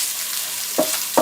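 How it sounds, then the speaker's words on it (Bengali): Ginger and garlic paste fries in a hot pan with a soft steady sizzle, close by, broken by two quick stirring scrapes near the end. "আদা ও রসুন বাটাটাকেও একটু ভেজে নিলাম"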